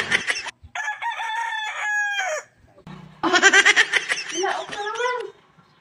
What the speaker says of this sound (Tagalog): Tilaok na naman.